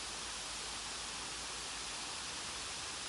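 Steady broadband rush of an artificial indoor waterfall inside the Eden Project biome, a constant quiet wash of falling water with no voices and no change across its length.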